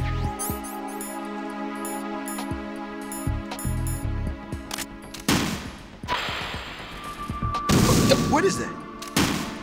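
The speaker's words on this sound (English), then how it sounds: "That was me wasting a rocket, that's what it was." A rocket fired and exploding in Metal Gear Solid 2: Substance: two loud, broad blasts with rumbling tails break through steady game music and effects, while a person talks briefly over the game.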